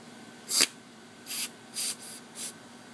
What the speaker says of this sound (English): Then you can spray down inside the jets.